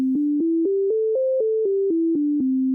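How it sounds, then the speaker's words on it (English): Plucked single notes step up a major pentatonic scale and back down, evenly spaced and clear, ending on a sustained low tone. "This gets the dedicated name of the major pentatonic scale."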